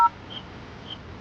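Phone keypad tones, a couple of short electronic dialing beeps at the very start followed by quiet room hiss.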